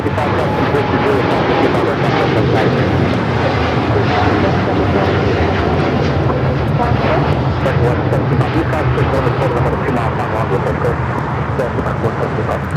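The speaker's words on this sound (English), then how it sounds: "This is United Airlines Flight 39 taking off to Tokyo Haneda on the 787-10 Dreamliner." United Airlines Boeing 787-10 Dreamliner departing LAX, a steady heavy jet rumble filling the whole stretch, with people talking over it at times.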